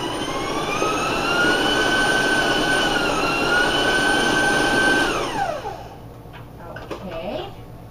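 A stand mixer beats peanut butter chip cookie dough with its paddle at a raised speed: a loud, steady motor whine with rising tones that winds down and stops after about five seconds, leaving near silence.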